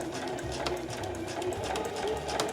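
A sewing machine stitches a zipper onto fabric, beginning with a backstitch: a steady, continuous mechanical whir with rapid needle clatter, close and moderately loud, with no talk over it.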